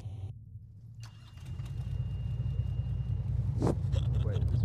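A car in a video game starts up and begins to move, its engine rumbling low and steady and growing louder, with a sharp burst near the end and voices talking over it.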